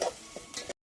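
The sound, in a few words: masala frying in oil on wood-fired stove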